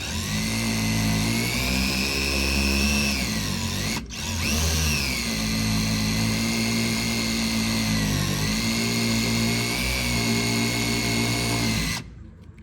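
A power drill whines steadily at close range, boring through a composite rear spoiler on a C8 Corvette Z51, pausing briefly around the middle and changing pitch as it bites, then cutting off near the end.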